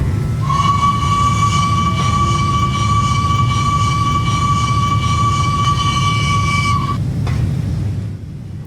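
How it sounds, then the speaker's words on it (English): Steam whistle of an LNER A3 locomotive in Train Simulator Classic, one long steady chime-like blast held for about six seconds over a constant low rumble of the engine, then cut off, loud and close. "here's the spacebar whistle"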